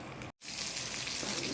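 Rava-coated prawns frying in a pan on the stove crackle with a dense, rain-like sizzle, cut by a brief silent gap before the steady frying resumes.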